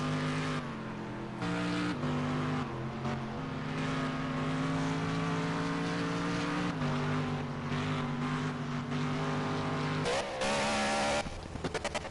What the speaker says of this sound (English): He's really wrestling that Mercedes around this track